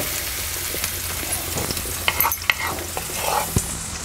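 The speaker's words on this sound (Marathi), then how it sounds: "आता थोडंसं आपल्याला असं परतून घ्यायचं।" Eggs are sautéed and stirred in a hot pan for a quick village-style egg recipe, giving a steady close sizzle broken by scraping strokes and a few sharp clinks of the spatula, with no talking.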